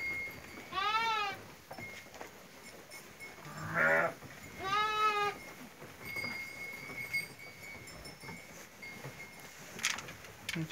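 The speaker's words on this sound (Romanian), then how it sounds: "Aici avem niște capre." Goats at a sheepfold in Maramureș bleat in a few loud, wavering calls spaced across the clip, against a busy barn background of shuffling and patter.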